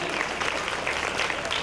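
A church festival crowd claps together at a large basilica gathering for a Marian feast, dense, steady applause filling the space from many hands at once.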